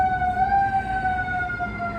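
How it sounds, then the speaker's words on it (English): An ambulance siren sounds outside a hospital: a steady, sustained two-tone wail that holds loud and continuous for the whole moment over low background rumble. "I'm in a hospital, so we're going to be hearing the ambulance"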